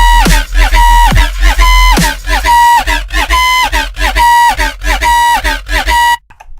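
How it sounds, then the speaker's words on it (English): Wonky riddim bass synth patch built in Serum, a loud honking, talking bass with vowel-like formant sweeps and pitch drops, played in a choppy rhythmic pattern of stabs for about six seconds before cutting off abruptly. "how to make this really sick wonky bass sounds a little something like this"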